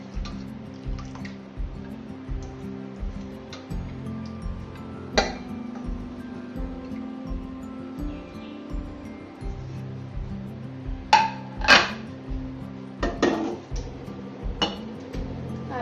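Splashing and sloshing of water as soaked sago is rinsed by hand for coconut ice cream, with clinks of a metal vessel and occasional drips, close up.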